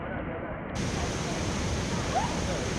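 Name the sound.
waterfall rushing in Puerto Rico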